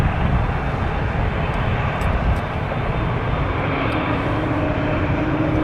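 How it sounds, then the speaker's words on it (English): Airliner taking off from runway 23 at Toronto Pearson, a loud, steady roar of jet engines holding nearly constant throughout, heard alone without any voices. "The 543, let's take off runway 23."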